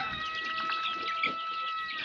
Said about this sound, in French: Alors ici les petites poules